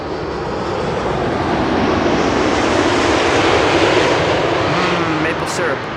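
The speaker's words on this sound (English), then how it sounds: "this is Air Canada Flight 900 arriving from Montreal in the meantime" An Air Canada jet airliner arriving from Montreal passes with a sustained broadband engine roar that holds steady and loud throughout.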